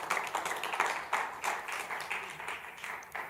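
A church congregation at a Tuesday worship service claps at steady, moderate loudness for about three seconds, with denser bursts of clapping surging and easing throughout and no talking over it.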